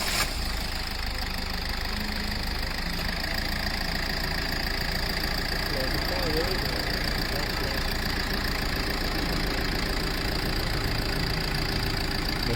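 A car engine idles steadily throughout, a constant mid-pitched drone with light knocking and vibration, close by and alone with no talk, during a check of the radiator fan relay on an overheating car.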